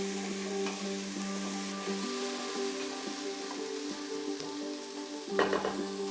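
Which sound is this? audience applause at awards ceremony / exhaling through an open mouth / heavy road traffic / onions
onions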